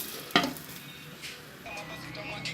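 Shawarma flatbread dry-cooking in a pan with no oil, giving a soft steady sizzle with a sharp clatter near the start and faint stirring scrapes throughout.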